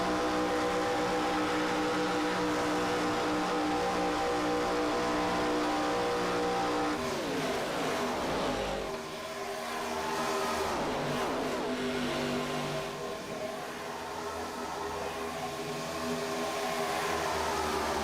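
Stock cars race on a bumpy track in a Grand National racing video game, a constant loud engine roar with shifting revs and cars sweeping past, no voices over it.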